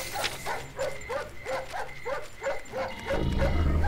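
Dogs bark in a repeated run of about eight evenly spaced barks during a dog ambush in a video game, moderately loud, ending under a low rumbling swell.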